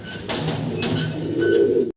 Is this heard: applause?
no